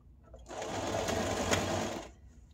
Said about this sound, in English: I'm gonna keep it right on the edge here of my hat, but I'm gonna stitch it down